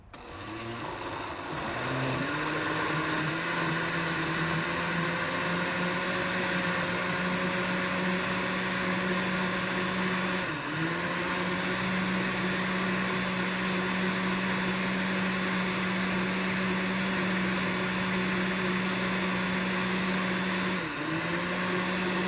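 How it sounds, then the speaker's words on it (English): Blender running continuously on a flan napolitano mixture with evaporated milk, a loud steady motor whir that starts after a brief moment and holds with slight pitch dips, no talking. "Just give it a good blend."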